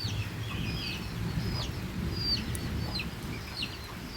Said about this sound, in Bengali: মুরগিগুলোও চলে আসছে ফ্যান খাওয়ার দিকে।